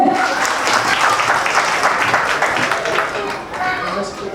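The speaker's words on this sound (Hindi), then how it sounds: "तालियां तो बजा दीजिए" Wedding reception guests clap together in a sustained burst of applause that fills the room. The clapping is loud and close, with crowd noise and a voice mixed in.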